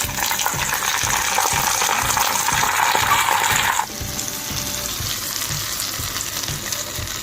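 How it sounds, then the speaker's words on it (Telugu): Cumin seeds, dried red chillies and curry leaves sizzle loudly in hot oil during a tempering, a steady crackling fry that drops noticeably quieter partway through, with no talking. "ఇప్పుడు జీలకర్ర ఎండుమిర్చి కరివేపాకు వేసుకోవాలి"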